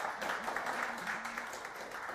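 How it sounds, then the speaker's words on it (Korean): Audience applause at an auditing forum talk-concert event, a steady wash of clapping held at a fairly even level throughout, with faint voices mixed underneath. "우선 박수를 한번 쳐주시죠"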